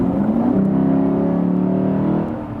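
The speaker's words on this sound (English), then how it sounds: "And if I now hammer the throttle, go for 80 to 100" A Lexus GS F V8 accelerates hard from 80 to 100, its engine note rising in a sustained, loud climbing roar over about two seconds before easing off.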